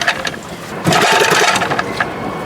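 A 1971 Johnson 20 HP outboard motor cranks hard to start, with rapid mechanical clatter that surges louder midway and churns on unevenly without catching.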